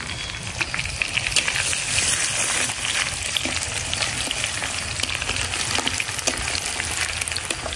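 Onion frying in a pan with cinnamon, bay leaves and peppercorns, a steady dense sizzle and crackle that runs continuously at close range, with no voices over it.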